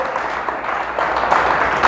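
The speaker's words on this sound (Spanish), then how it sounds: "Le damos un fuerte aplauso al Señor" A church congregation applauds loudly, a dense sustained clatter of many hands that builds slightly toward the end, with faint voices mixed in.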